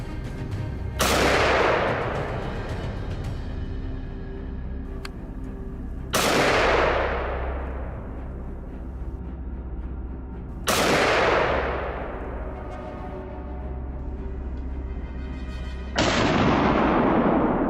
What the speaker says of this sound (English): a single shot from my teammate claimed another life just as cleanly.